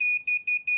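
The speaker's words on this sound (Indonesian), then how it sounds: "buzzer on" An electronic buzzer on a water level monitoring system sounds as four short, shrill, evenly spaced beeps, loud and close with nothing else heard.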